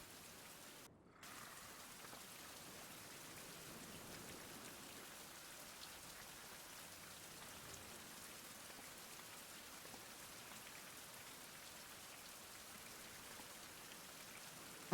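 Steady, even rain falls in the survival game Survival: Fountain of Youth, a soft, constant wash of drops that continues without a break after a brief dip at the start.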